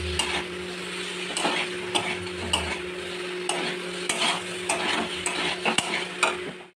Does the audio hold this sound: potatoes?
yes